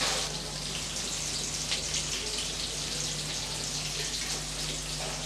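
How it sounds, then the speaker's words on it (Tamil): Sliced onion fries in hot oil, giving a steady, close sizzle and crackle that holds at an even level throughout without talking. "இப்போ வெங்காயத்தை நல்லா வதக்கி விட்டுறலாம்."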